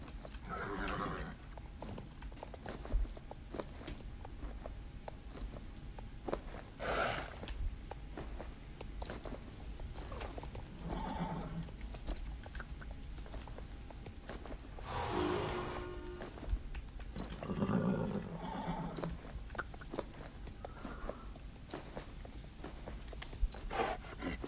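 Horses in the Stable Stable Online video game walk with repeated clip-clop hoofbeats and let out several neighs and whinnies over a faint steady background, with no talk.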